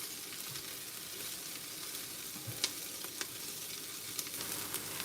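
Onions sizzling and frying in a pot for soup, a steady bright hiss with occasional soft pops and stirring clicks, close and continuous with no talk.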